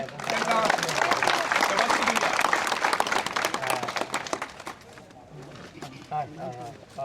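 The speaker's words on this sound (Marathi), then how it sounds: "यांना मोठ्यान टाळी मारून" A crowd at a Pernem rally for delayed specialist healthcare facilities claps loudly for hunger strikers, dense continuous applause fading toward the end with scattered voices and cheers.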